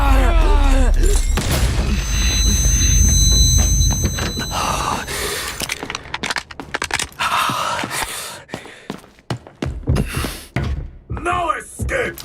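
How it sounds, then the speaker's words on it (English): Gunfire and heavy thuds from the video game Delta Force Operations, a loud burst of booming shots early, then scattered sharp impacts and clicks while a player pants and talks. "I hear gunfire."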